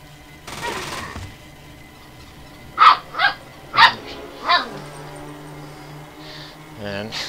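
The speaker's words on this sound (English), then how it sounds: "that's my dog Chewy" Chewy, a small rambunctious dog, barks in four quick sharp yaps spaced about half a second apart, following an earlier burst of noise and set against a low background hum.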